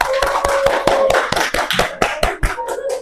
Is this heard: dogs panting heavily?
no